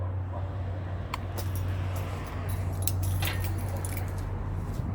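Keys for a 1986 Dodge D100 pickup jangle in short metallic bursts, fairly close, over a steady low hum, with no voices.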